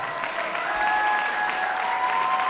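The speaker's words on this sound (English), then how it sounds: "he deserves all of your applause" Sustained applause from an audience at an Emmy awards ceremony, steady and fairly loud throughout with a dense crowd of clapping hands.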